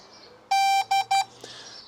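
Three sharp electronic beeps ring out close by from a DJI Mavic 4 Pro drone pairing with its controller, one long tone followed by two shorter ones, over a quiet background.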